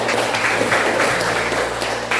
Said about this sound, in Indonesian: tepuk tangan untuk jawaban temannya